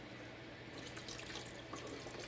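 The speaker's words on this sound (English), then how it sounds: "Now we're going to add this chicken broth." Chicken broth poured into a soup pot in a kitchen, a steady close liquid splash and gurgle that grows slightly busier partway through.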